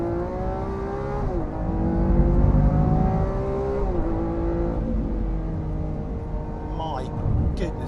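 Lamborghini engine revving hard with a new lighter exhaust system, harmonics climbing and shifting through gear changes, loud and continuous with a voice speaking over it.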